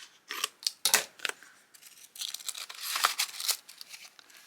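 Scissors trim the top edge off a sheet of paper for a journal, producing a series of crisp, close snips mixed with light paper crinkling and rustling, with no talking.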